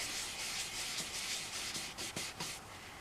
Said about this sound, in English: I wonder if we can just sand that paint off